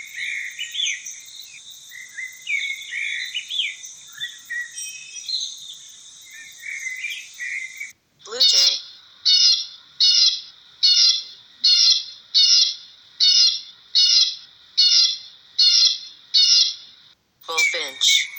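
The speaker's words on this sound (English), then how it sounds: "Blackbird." Blackbird song: varied warbling phrases over a steady high buzz for several seconds, then a run of about ten evenly spaced, loud repeated calls, each followed by a brief pause.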